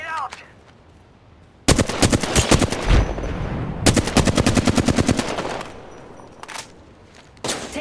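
Rapid automatic gunfire from the Apex Legends battle royale game, loud sustained bursts with a brief pause between them, followed by fainter scattered shots.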